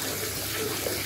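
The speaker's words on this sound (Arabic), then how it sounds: "المية بتنزل من هنا" Water pours steadily out of a car radiator being flushed, a close, continuous splashing rush with no break over the whole moment.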